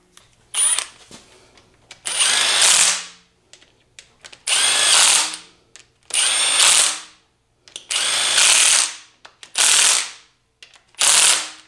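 A hand ratchet tightens bolts on an engine oil pump during a high-horsepower engine build, heard as seven loud, close bursts of rapid clicking separated by short pauses, with no talking.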